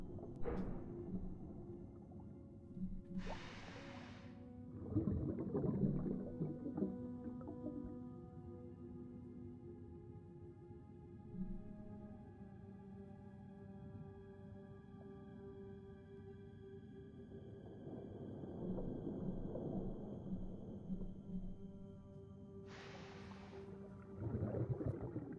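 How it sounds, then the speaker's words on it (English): Engine noise inside the Thalassa: Edge of the Abyss video game: a low, steady droning hum with layered tones, rising in rumbling surges at moments, with no speech over it. "The engine making noise?"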